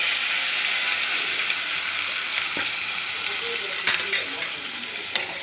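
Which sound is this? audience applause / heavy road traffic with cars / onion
onion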